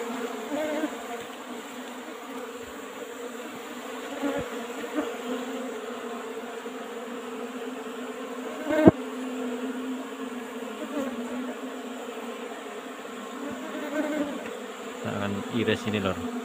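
Apis cerana honey bees hum steadily around an old-style wooden hive box during a honey harvest, a continuous close drone with a few faint knocks and handling noises.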